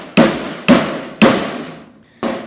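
A hammer drives a screwdriver into sheet metal: four sharp, ringing metallic strikes in an uneven rhythm, each trailing off in a short decay, loud and close with no talking.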